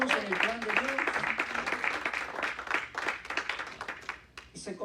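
A church congregation gives the Lord a strong round of applause, a steady crackle of many hands clapping throughout, with a voice briefly heard at the start beneath it.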